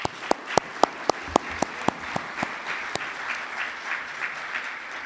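Applause at a conference panel session starts with a few loud, distinct claps in an even rhythm, then spreads into a softer, steady patter from a larger group.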